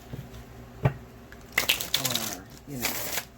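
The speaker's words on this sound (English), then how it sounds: "So I've been sitting here for the last 10 minutes shuffling this deck" A Universal Fantasy Tarot deck is shuffled by hand, giving soft papery riffles and brisk card flicks in short irregular bursts, close and fairly quiet against a hushed room.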